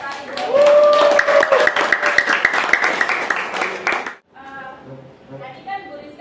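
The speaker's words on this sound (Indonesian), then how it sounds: "Ini tepuk tangan buat Sari." Students clap in a math classroom lesson, a burst of sharp, uneven hand claps lasting about four seconds while a voice talks over them, followed by further speech.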